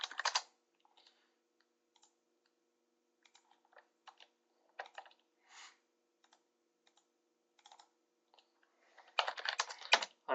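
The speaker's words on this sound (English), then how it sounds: "You can double click on it, and you can say, you could type I2, I3." Pipe names being typed on a computer keyboard in CAD software: sparse, quiet key clicks in short bursts with pauses, ending in a faster, louder flurry of typing.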